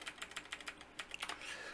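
Quick bursts of keystrokes on a computer keyboard while a web address is entered, a run of crisp, close clicks in an uneven rhythm, fairly quiet, with no talking.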